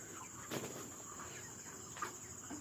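Broiler chickens, 35 days old, cluck and rustle in a large flock on a poultry farm, with a few louder flutters of wings above a steady hum of fans.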